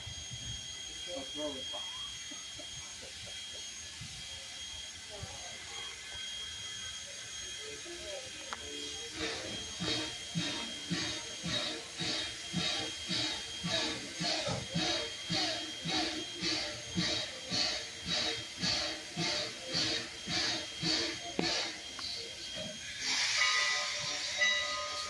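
Strasburg Railroad steam locomotive 89 pulling a passenger train, a steady rhythmic chuff that builds in pace and loudness with hissing steam, ending in a louder burst of steam near the close.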